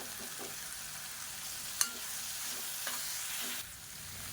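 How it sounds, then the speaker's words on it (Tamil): Coriander leaves sautéed with softened tomatoes in a pan for tomato chutney, giving a steady broadband sizzle with faint stirring scrapes and one sharp utensil clink, fairly close and without talk. "இப்போ பாருங்கள், மல்லி இலை சேர்த்து நல்லா வதக்கியாச்சு"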